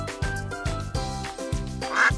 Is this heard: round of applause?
no